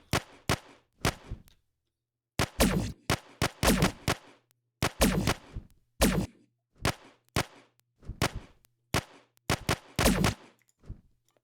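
In a Unity flight combat game, bursts of rapid gunfire are shot at an enemy aircraft, coming as repeated sharp volleys separated by short silent gaps, loud and close.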